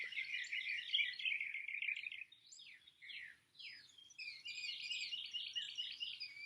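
Loud birds chirping and twittering outdoors in a dense, continuous chorus, with a brief lull midway before the bright tweeting swells again, close and unaccompanied by voices.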